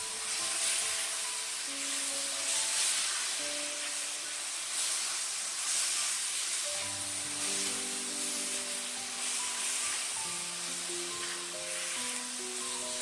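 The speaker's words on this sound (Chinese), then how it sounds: "然后把山药丸子放入锅中，快速翻炒均匀" Yam balls sizzle and hiss as they are quickly stir-fried in thick sweet and sour sauce in a wok, a steady soft frying sound beneath gentle background music.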